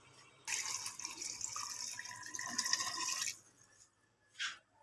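About 1.25 litres of water is poured into a pot of mutton for mutton kunna, a steady splashing stream lasting about three seconds, then a brief splash afterward, close and fairly quiet.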